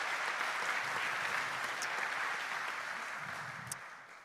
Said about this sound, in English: So I just want to get a round of applause for all of the organizers.